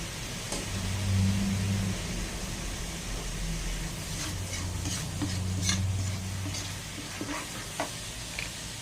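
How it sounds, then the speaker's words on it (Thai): Curry paste for a Thai chicken and pickled bamboo shoot curry is stir-fried in a pan, giving a steady sizzle with a few clinks of a spatula against the pan under a low background hum. "ค่อยๆผัดให้หอม"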